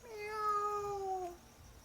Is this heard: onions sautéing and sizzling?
no